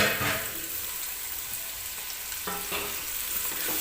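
Vertically sliced onions fry in a modest amount of oil, giving a steady bright sizzle with a few stirring scrapes, close and alone without any talk.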